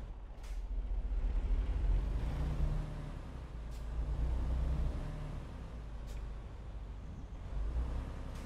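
A semi truck engine idles with a low, steady rumble after start-up in American Truck Simulator, with a few brief hissing air-brake bursts over the drone.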